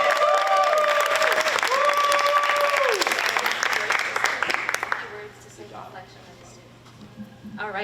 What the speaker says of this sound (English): Another big round of applause for everybody.